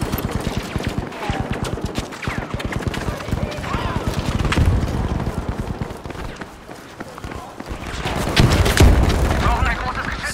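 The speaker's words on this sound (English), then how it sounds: "This guy's getting shot at somewhere." Rapid gunfire in a Battlefield 5 multiplayer Breakthrough match rattles in quick regular shots with heavier booms, continuous and loud, while players talk over it.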